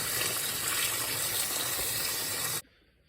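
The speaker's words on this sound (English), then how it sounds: "Right now I'm just rinsing off the seeds." Pumpkin seeds are rinsed under running tap water, a steady loud gushing and splashing that goes on unbroken and then cuts off abruptly near the end, leaving quiet.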